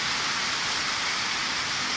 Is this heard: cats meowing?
no